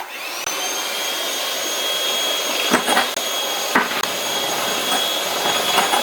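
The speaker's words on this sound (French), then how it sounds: "vous allez maintenant battre à haute vitesse avec un batteur électrique" An electric hand mixer runs at high speed beating egg yolks with sugar for a tres leches cake, giving a steady loud whine throughout with a few brief knocks of the beaters against the bowl.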